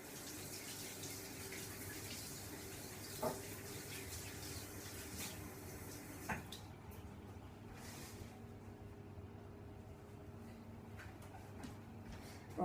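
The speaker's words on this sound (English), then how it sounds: "I'm just going to go and wash my hands because they're a bit" Water tap running steadily into a sink during handwashing in a home kitchen, a continuous gentle splashing with a couple of soft knocks, faint and alone without talk.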